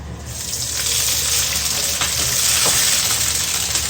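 Browned onions frying in a pan sizzle loudly and steadily as water is poured in, a dense hissing burst that holds near and close throughout with no talk.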